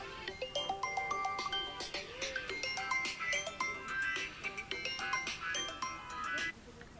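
A phone ringtone plays as a repeating electronic melody of bright, tonal notes, fairly loud and continuous for several seconds in a rural Indian household, with no talk over it.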